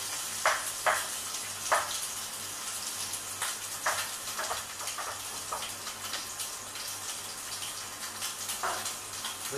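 Chicken paupiettes brown in oil and butter in a pan, sending up a continuous close sizzle with scattered louder spits and light clinks; no one talks.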